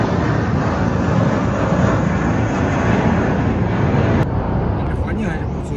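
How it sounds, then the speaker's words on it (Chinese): An airplane passes low overhead near the airport in Sanya, a loud, steady roar of jet engine noise that fills the whole clip and eases slightly near the end. "你看这飞机，"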